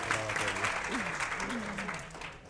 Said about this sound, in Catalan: Sí, sí, podeu aplaudir sempre.